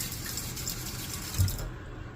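Tap water runs into a kitchen sink whose drain strainer is pushed down, a close, steady gushing flow with a brief thump partway through; no voices.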